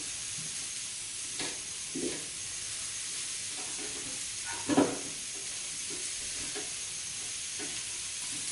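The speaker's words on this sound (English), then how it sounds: "we're gonna go ahead and mix our rice" Cauliflower rice seasoned with black pepper is stirred in a pan, giving a soft steady sizzle with faint scraping stirs and one louder clatter midway, close and quiet, no talking.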